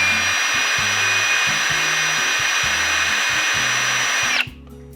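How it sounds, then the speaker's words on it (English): A power drill whines steadily at close range, bit grinding into metal as it drills out spot welds on a Nissan S13, with low rhythmic thumps beneath, then the motor cuts off abruptly. "Then it says to use bigger and bigger drill bits."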